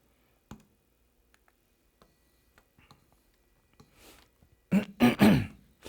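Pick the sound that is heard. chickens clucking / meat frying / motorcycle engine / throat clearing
throat clearing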